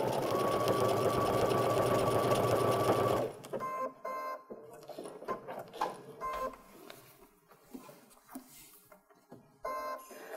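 Sewing machine stitching around an appliqué snowflake on a pillow, a steady loud whirring run for about three seconds, then stopping into short, intermittent bursts of stitching with quiet gaps between.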